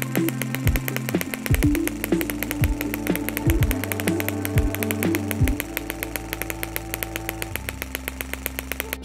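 A small model engine runs close and loud, its rapid, evenly spaced firing pulses forming a buzzing chug that settles into a lower, steadier beat near the end.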